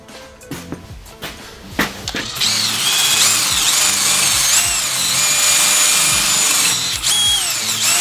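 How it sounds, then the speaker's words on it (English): A wire wheel on a power tool scrubs rust from a metal part of a Honda QR 50 during a rebuild, starting after a few knocks and then running as a loud, steady whir with a gritty edge, alone in the foreground. "I took a wire wheel and got as much rust off as I could"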